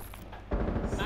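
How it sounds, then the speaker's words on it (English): Gunfire from Rainbow Six Siege gameplay: after a quieter half second, a loud burst of rapid shots fills the rest of the clip, with faint talk in the background. "I'm shooting down in the hill."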